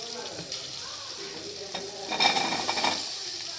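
Green chillies sizzle and crackle in a hot pan, stirred with a spoon or spatula, a steady frying hiss with scraping strokes that grow louder near the end; no talking.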